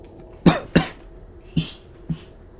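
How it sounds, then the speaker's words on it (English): A person coughs four times in quick succession: two sharp, loud coughs close together, then two shorter, fainter ones after a pause, all close to the microphone with no talking. "I started coughing when I saw this"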